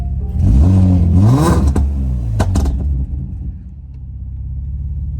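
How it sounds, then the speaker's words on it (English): Nissan G35 drift car engine revving hard after repairs, a loud close rising-and-falling rev burst with quick blips, then settling into a steady rumbling idle. "I have gotten it to finally rev and stay started"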